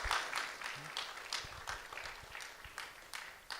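A church congregation at a Sunday service claps in scattered, fairly faint applause, with irregular hand claps spread through a roomy space.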